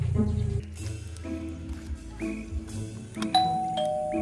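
A doorbell chimes several times in bright, ringing tones, with a brief low voice at the start and some background clatter.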